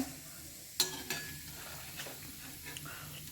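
Shankarpali sweets deep-frying in hot oil for Diwali give a steady low sizzle, broken by a few sharp metal clinks and scrapes as the pieces are moved and lifted out.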